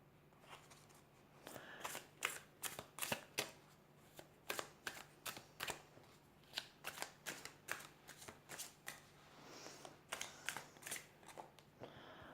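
A Vision Quest Tarot card deck being shuffled close up, a quick run of crisp riffling snaps in irregular bursts against a quiet room, no voices.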